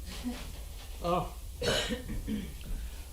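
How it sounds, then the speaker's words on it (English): A person coughs and clears their throat a few times at close range, harsh bursts separated by brief pauses, with faint voices nearby. "That's a different kind of cough."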